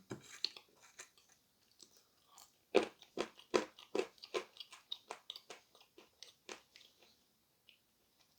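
Edible clay bitten and chewed, dry crunches close and crisp, a burst of loud snappy bites in quick succession mid-clip then softer chewing crackles.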